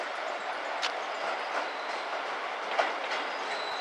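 A small diesel train runs on the single-track JR Kansai Line in Japan, heard from onboard as a steady rumbling ride with occasional clickety-clack wheel beats over rail joints.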